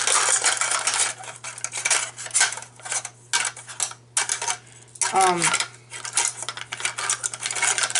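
A small metal camping pan from a med kit clatters and scrapes as it is handled, with sharp clinks and rattles in quick irregular bursts, close and fairly loud, broken by short pauses.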